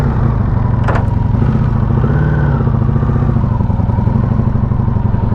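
A 1984 Honda Sabre VF1100 V65 motorcycle engine runs on its first start in 15 years, a steady loud close idle with a rough pulsing rumble throughout and a brief clatter early on.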